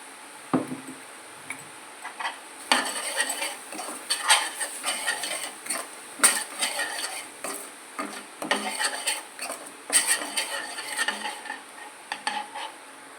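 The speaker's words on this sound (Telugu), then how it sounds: "మసాలా పేస్ట్, ఫ్రై చేసుకోవాలి." Masala paste with salt fries in a pan while a spoon scrapes and stirs it in irregular bursts of clatter and sizzle. The sound is close and loud against quiet gaps, with no speech.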